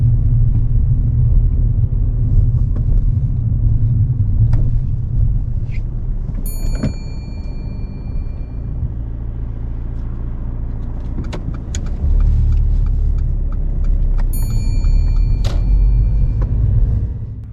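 A learner driver's car rolls slowly around a mini roundabout in steady low engine rumble heard from inside the cabin, with a few faint clicks and ticks along the way.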